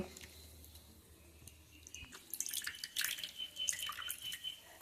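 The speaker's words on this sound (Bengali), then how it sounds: "এখন লাল শাকটা ছাকনির মধ্যে দিয়ে লাল শাকের জুস বের করে নেব" Red spinach juice, blended with a little water, drips and trickles through a strainer, quiet at first and then a louder patter of wet drips and small splashes near at hand.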